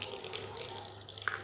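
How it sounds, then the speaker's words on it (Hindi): Water poured over poha in a strainer and draining through it, a soft, close trickling splash with a few faint drips. "ऊपर से पानी डालेंगे तो वो है कि नीचे से छन के गिर जाएगा गंदा"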